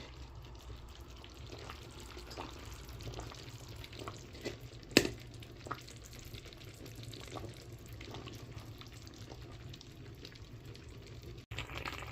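A pot of pasuts tolma (grain-stuffed rolls) comes to the boil and bubbles faintly and steadily, with one sharp clink of metal midway and no talking.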